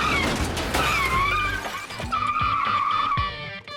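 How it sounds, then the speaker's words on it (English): A car is rammed on both sides at 25 miles per hour, bringing loud crunching metal and scraping impacts with squealing, skidding tires amid a rough, busy outdoor din. "Tori is going to ram both sides of the car at 25 miles per hour"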